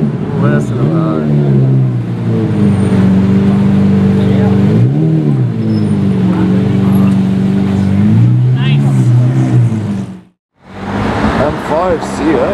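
A BMW M5 CS engine revs among other cars at a sports car gathering, its loud, close exhaust note rising and falling in sustained sweeps, cutting out briefly near the end before resuming.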